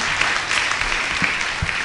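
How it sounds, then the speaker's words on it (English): Audience applause at a skeptics' conference workshop (TAM 2014), a steady dense wash of clapping from a crowd filling the whole moment, fairly loud and continuous with no talk over it. "I want to just applaud to Bob here for all the work he's done."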